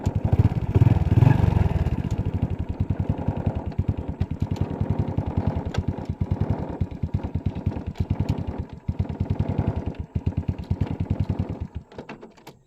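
A Honda Wave 100 motorcycle engine runs steadily nearby, a loud, even, rapid putter with a clattery mechanical edge that continues throughout and fades slightly at the end.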